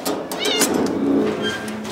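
Intact male cats in a shelter cat room make a few short meows and faint mewing sounds close by, mixed with soft background rustle.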